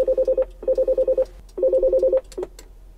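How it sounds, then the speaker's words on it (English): An intercom phone in a 2020 Mercedes Sprinter VIP van sounds a repeating, warbling electronic tone in three short bursts with gaps, loud and close. "And with this button, you can call"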